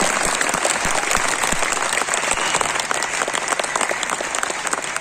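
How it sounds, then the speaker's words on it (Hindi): Loud, enthusiastic applause from an audience at a business seminar, dense clapping with individual sharp claps standing out and a faint crowd murmur underneath, sustained throughout. "मैं चाहता हूं अभी तक की सबसे जोरदार तालियां अपने लिए बजाएं आप"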